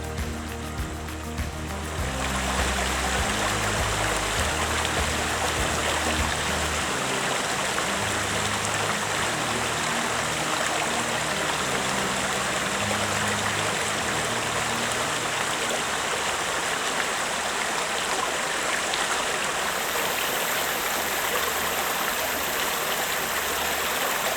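A fast-flowing river rushes over sharp, slippery rocks, making a loud, steady, broadband roar up close, with a heavier low rumble in the first seconds and no voices.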